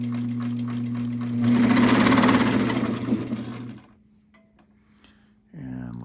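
A White 658 sewing machine runs a straight stitch with a steady, close mechanical hum and rapid needle clatter that speeds up, then stops, followed by a short whirring noise at the end.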